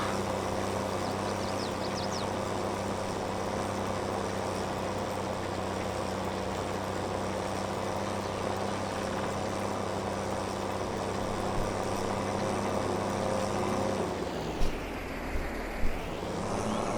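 A tractor engine drones steadily in Farming Simulator 22, a loud, even, close mechanical hum that holds for most of the stretch before shifting tone near the end with a few faint clicks, no talking.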